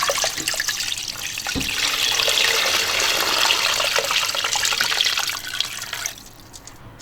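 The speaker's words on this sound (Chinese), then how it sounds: "然后加水" Water pouring from a tap into a pot of braised pork knuckle with spices and rock sugar, a loud continuous splashing rush that cuts off near the end, with no voices.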